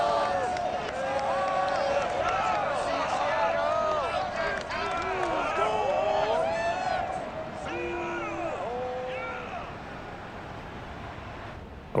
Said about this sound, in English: This crowd, as we've come to expect in recent years, as loud as any in the NFL, and they get even louder when their Seahawks are introduced